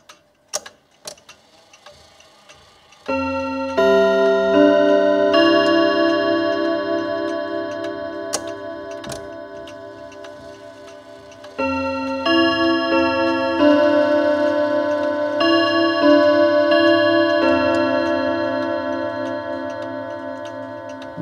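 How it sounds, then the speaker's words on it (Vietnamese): A French Eros chiming clock plays a well-known melody on bright, ringing chime tones over a steady mechanical tick, the tune starting after a few seconds, pausing briefly, then repeating loudly with no voices. "giờ em sẽ cho test một đoạn nhạc của bản nhạc rất là nổi tiếng của hãng Eros này"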